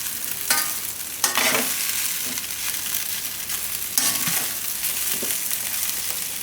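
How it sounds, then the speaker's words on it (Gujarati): Spoon stirring and mixing onion muthiya mixture in a hot pan, a steady frying sizzle with a few louder scraping strokes at irregular intervals, close and alone. "અને આપણે આ રીતે મિક્સ કરી લીધા."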